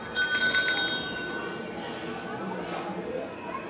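A bell rings briefly in a short burst of bright metallic strikes near the start, then fades under a low, murmuring background.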